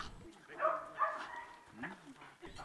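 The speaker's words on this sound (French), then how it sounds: "ce chien berger hollandais a été spécialement entraîné pour mettre hors d'état de nuit les malfrats" A trained Dutch shepherd security dog gives a few short barks, fairly faint, with a voice speaking over it.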